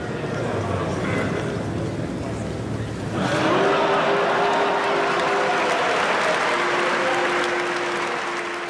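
A large audience at an Apple keynote boos Bill Gates as he appears on a giant screen, a broad swelling crowd roar that grows louder partway through and holds steady, with a voice speaking over it.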